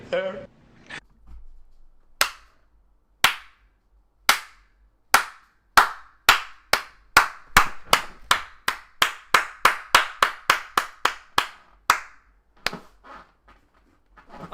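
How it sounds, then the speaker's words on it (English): A slow hand clap, sharp single claps spaced apart at first, then speeding into a quicker steady rhythm before trailing off, close and loud with a voice briefly at the start. "I think that's the first time I've done a slow freedom clap."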